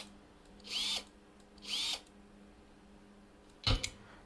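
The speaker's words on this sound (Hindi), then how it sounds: "चलो निकालते हैं इसके अभी नट बॉल्स।" Power wrench from Gas Station Simulator removing tire nuts: two short whirring bursts about a second apart, then a sharper clunking burst near the end, all fairly close with no talk.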